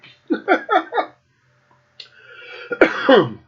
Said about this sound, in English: Fighting a fucking cough.